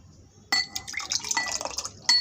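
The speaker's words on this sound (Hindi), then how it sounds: "तो अब हम अपने गिलास में डालेंगे।" Jaggery sharbat is poured into a glass in a short splash, with bright liquid and glass clinks, close and fairly clear, starting about halfway in and ending with a final clink.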